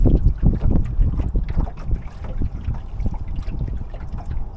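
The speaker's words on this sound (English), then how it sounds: "Got some little waves coming in." Small waves slap and wash against the hull of a sailing lugger beating upwind with its mizzen sheeted in hard, a steady close rush of water mixed with wind buffeting the microphone, no voices.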